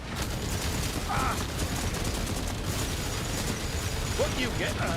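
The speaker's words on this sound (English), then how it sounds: "Changing mag." A gun magazine being changed in the video game SYNCED gives a few quick mechanical clicks and ratchet-like snaps, set against a steady, busy background of in-game noise.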